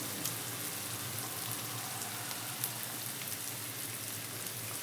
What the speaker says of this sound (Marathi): तर चांगला कांदा भाजून घेऊ